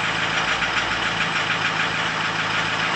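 2005 Ford F250 crew cab with a Powerstroke diesel engine idling up close: a steady, loud, even clatter with no pauses or changes in pitch.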